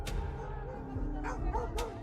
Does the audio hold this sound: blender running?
no